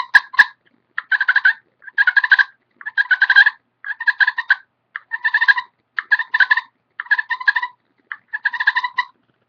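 A slate turkey call worked with little long strokes gives a series of about nine rolling purr bursts, each a fluttering trill under a second long, evenly spaced and close, with no talking.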